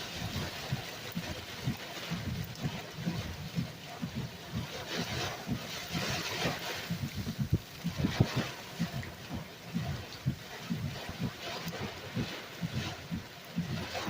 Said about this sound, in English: So still getting some 45 to 55 mile an hour gusts.